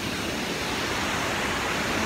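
Water pours steadily at the Water Gardens in Fort Worth, Texas, a loud, dense, unbroken rush filling the whole short stretch with no gaps.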